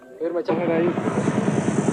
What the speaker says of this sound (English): The helicopter carries away the ballots, the officials, and along with them, any trace of the Salvadoran government.